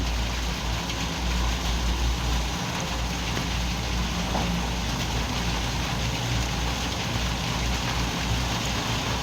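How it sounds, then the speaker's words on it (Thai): Heavy daytime rain pours down steadily in a dense, continuous hiss at a construction site in Buriram, Thailand, with a low rumble underneath and no voices. "ฝนมาแล้วครับ นี่ก็น่าจะเป็นครั้งแรกแหละที่ฝนถล่มตอนกลางวัน"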